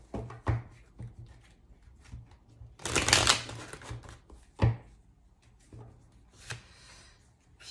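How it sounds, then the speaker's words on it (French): Tarot cards are handled and shuffled at close range: scattered soft flicks and taps, a dense riffling burst in the middle, then a few more sharp card snaps, all quiet and without speech. "j'attends de tirer encore 3 cartes"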